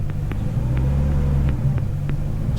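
Steady low idle rumble from a BMW E39 540i 4.4 V8 surging at low RPM with a sticking throttle body, the engine drone holding close and constant with faint periodic ticks over it.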